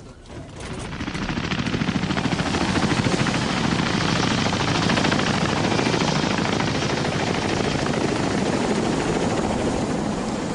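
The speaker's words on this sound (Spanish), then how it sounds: "El helicóptero deja las jaulas en una zona protegida lejos de los pueblos" A helicopter carrying animal cages flies over trees, its rotor chop a loud, dense, steady rapid thumping that swells in within the first second and holds, no voices.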